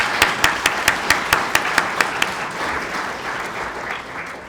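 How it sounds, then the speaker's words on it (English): An audience at a nonprofit leadership awards event applauds: a few sharp, evenly spaced claps stand out at first, then blend into a dense, steady wash of clapping that gradually fades. "Let's give a warm round of applause for that."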